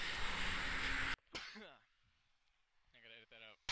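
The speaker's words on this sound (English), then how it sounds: "excuse me, I gotta sneeze." A forceful, noisy sneeze bursts out at the start, followed by a short pause and some quiet vocal sounds.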